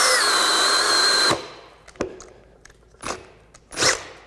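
Metabo HPT 18V MultiVolt hammer drill boring through wood with a large bit, a loud high whine that cuts off abruptly as it stalls, followed by short sputtering bursts and clunks.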